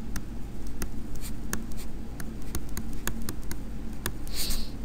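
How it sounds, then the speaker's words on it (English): Pen or marker writing out math on a surface, a steady run of short scratchy strokes and taps, close and fairly quiet, with no voices. "Just going to rewrite on the next line."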